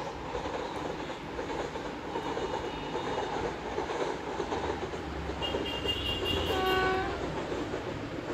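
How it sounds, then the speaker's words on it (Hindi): An Indian train rolls along the rails, heard from inside an AC 3 tier coach as a steady broad rumble, with a distant horn sounding near the end. "आप देख सकते हो ट्रेन जा रही है।"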